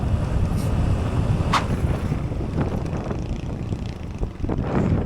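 Strong wind buffets the microphone while riding on a long road ride, a constant loud rumble with occasional faint clicks and rattles underneath.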